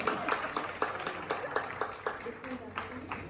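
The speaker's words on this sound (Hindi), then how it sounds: "तालियां बजा सकते हैं आप इस बात की?" Audience applause at a stage awards event, a steady run of claps from a crowd carrying on for a few seconds, fairly close and loud.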